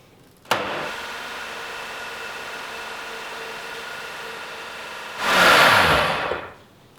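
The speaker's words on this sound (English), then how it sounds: "Put the lid on and blend this mixture up." A blender starts abruptly and runs at a steady whirring pitch while mixing a vegan smoked paprika cheese blend with lemon juice and water, then surges louder near the end before cutting off.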